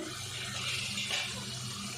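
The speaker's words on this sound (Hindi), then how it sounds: "अब इसमें पानी डाल देंगे," Water poured from a cup into a pan of chicken masala, a steady gushing, splashing pour lasting about two seconds, close and moderately loud with no talk.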